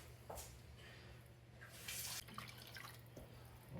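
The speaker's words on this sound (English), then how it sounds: "So now we're gonna add our water." Water poured into a pot of long grain rice for Puerto Rican yellow rice, a steady running splash with brief louder surges, alone at moderate level.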